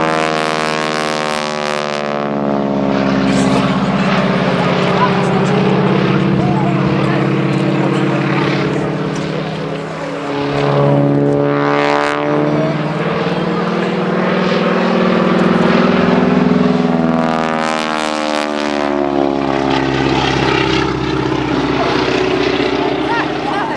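A propeller aircraft pulling up at an airshow drones loudly with a throbbing engine note whose pitch sweeps up and down in slow phasing waves as it passes, and a commentator speaks over it.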